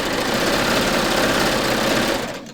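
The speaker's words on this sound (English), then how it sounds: "Let's just stitch it and see what happens" A Baby Lock serger stitches fabric at a 2.5 stitch length, a steady, fast mechanical whir running loud and close before cutting off at the end.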